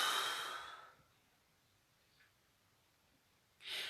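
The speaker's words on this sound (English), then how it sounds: "Now breathe out quickly." Two short, quick breaths out, close to the ear, one at the start and a second brief puff near the end, with near silence between them.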